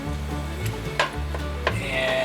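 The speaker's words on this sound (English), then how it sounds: "So just let this sizzle up." Ground meat for chili sizzles in a pan, a faint, steady frying hiss heard close with a couple of soft clinks or stirring knocks, and no voices.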